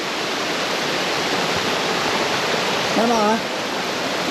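Imugan Falls waterfall as a steady, full roar of rushing water filling the whole clip, with a brief voice breaking in near the end.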